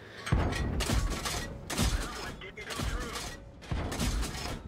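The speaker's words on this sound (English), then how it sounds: "We are shooting HEs at him." A light tank fires high-explosive shells in World of Tanks, making loud, dense booming blasts and thuds that repeat about once a second.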